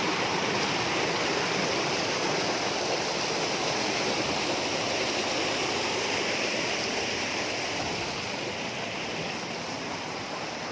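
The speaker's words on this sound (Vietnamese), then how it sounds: "Đấy, thác này cũng rất là đẹp." A waterfall on a mountain stream at Háng Tề Chơ in Vietnam roars as a steady, dense rush of water, loud and close, with no voices.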